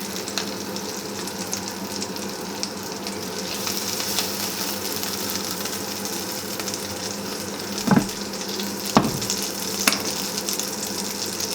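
Bubble and squeak patties fry in foaming butter in a pan, a loud, steady close sizzle with a few sharper spits and pops near the end, no talking.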